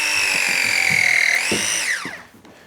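A press fit gun clamping copper plumbing pipe gives a steady loud motor whine that rises in pitch, then drops away as the jaws finish, with faint knocks underneath.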